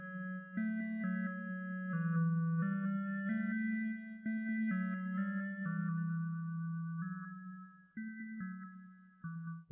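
A Roland Aira TB-3 or Novation Circuit synthesizer plays a sequence of sustained notes with a wavering vibrato and reverb tails ringing between them, alone with no voices.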